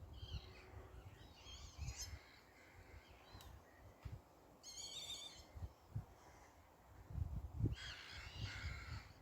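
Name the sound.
herring gull calling over lake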